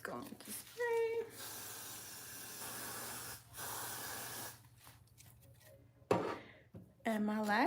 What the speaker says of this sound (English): let's go on to spray.